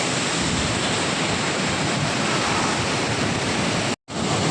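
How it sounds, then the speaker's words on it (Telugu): A swollen stream near Devarakadra, running with heavy water after two days of hard rain, gives a loud, steady, close rushing roar that breaks off for a moment near the end. "చూడండి నీళ్ళు అయితే ఏ విధంగా పోతున్నావు చాలా చాలా నీళ్ళు పోతున్నాయి"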